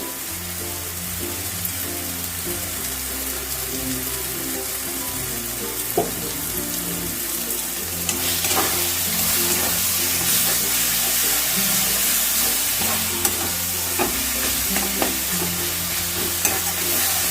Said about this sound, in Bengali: এই মশলাটাকে আমি তিন চার মিনিটের মতন ভালো করে একটু কষিয়ে নেব